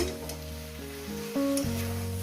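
Small mourala fish sizzle steadily as they go into hot oil in a pan for a dry spinach-and-potato chorchori, a continuous close frying hiss over soft background music, with no talking.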